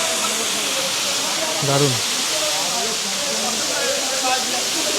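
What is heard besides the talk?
Gandahati waterfall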